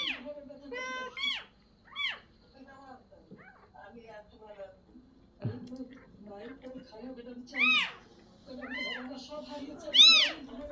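A cat that has just given birth to kittens meows repeatedly, with loud, rising and falling calls spaced a second or two apart, close by, while people talk quietly in the background.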